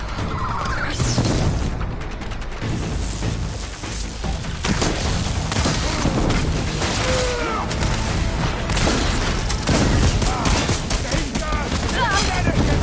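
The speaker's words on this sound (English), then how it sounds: "I love this cannon!" Cannon fire in the video game Horizon Forbidden West, repeated heavy booming blasts and crashing impacts in a rapid barrage over dense game noise, with a voice speaking briefly at the start.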